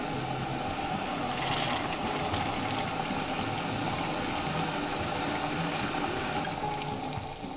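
JetBoil camping stove heating a cup of water, a continuous burner roar with a bubbling, rushing water texture underneath, steady and fairly close throughout with no talking.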